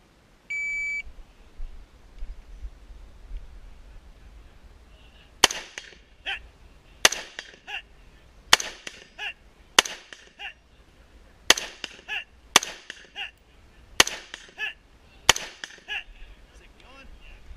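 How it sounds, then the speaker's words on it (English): Gunfire at a 3-gun shooting match, beginning with a timer beep and followed by about nine sharp, loud shots at a fairly steady pace, each with a brief echo, over quiet background. "the sound of gunfire"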